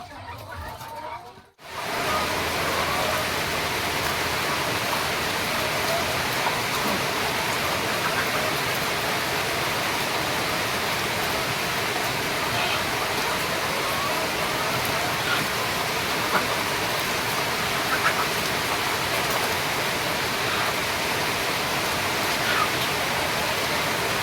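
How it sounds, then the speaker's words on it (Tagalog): Heavy rain pouring at a layer chicken farm, a loud continuous broadband hiss that begins after a brief quieter moment and stays steady, with faint hen sounds underneath. "umuulan na naman"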